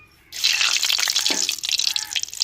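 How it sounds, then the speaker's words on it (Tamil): Mustard seeds hit hot oil in a pan for a brinjal rice dish, bursting into a bright, busy sizzle that starts abruptly and carries on with fine crackling spatter. "எண்ணெய் சூடாருச்சுங்க கடுகு போட்டுக்கிறோம்"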